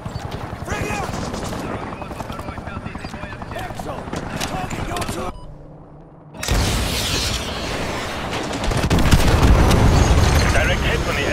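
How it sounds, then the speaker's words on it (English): An AGM missile strikes an enemy helicopter in Modern Warfare 2, with a dense roar of combat noise and whirring rotor, a brief dip, then a loud sustained blast and rumble. Voices are heard through the chaos. "Direct hit on the enemy helo."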